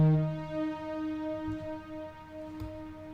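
A sustained string sample from a DJ intro holds steady harmonic tones over a soft low rhythmic pulse, playing alone at moderate level.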